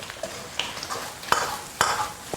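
Beef skin stir-fried in a wok with ginger, scallion, garlic, fermented black beans, Sichuan doubanjiang and dark soy sauce, a steady hiss broken by a few sharp scraping strokes of the spatula, close up, with no talking.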